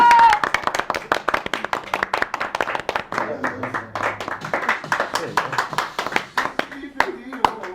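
Applause and clapping from guests at a Turkish wedding ceremony right after the vows, a dense crackle of many hands that is loud and sustained while an officiant keeps speaking over it.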